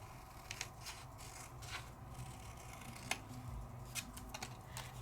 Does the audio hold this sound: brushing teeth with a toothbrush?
no